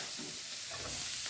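Whole spices and onion frying in butter in a pan for hotel-style paneer butter masala, a soft, steady sizzle with light stirring, close and fairly quiet, no talking.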